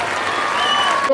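Loud, dense applause from students and guests at a high school farewell celebration, sustained and close for the whole moment, with a faint voice or two underneath.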